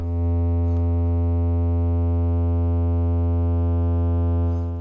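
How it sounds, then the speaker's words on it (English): Hexdevices Distress distortion module in a Eurorack modular synth, a loud steady harmonic-rich drone held for the whole stretch with a dense stack of overtones and a slight edge of added grit, no voices. "You start to hear that distortion come in there as well."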